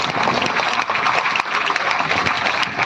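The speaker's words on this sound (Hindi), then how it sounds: "एक बार जरूर आप अपने लिए तालियां बजाओ साथियों" A dense, even burst of clapping comes from a crowd gathered under tents in the sun at an outdoor rally, continuing for about three seconds with no break.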